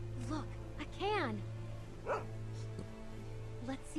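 Dog in The Walking Dead Season 2 video game giving a few short yelping barks and whimpers over a steady low hum, fairly quiet in the game scene.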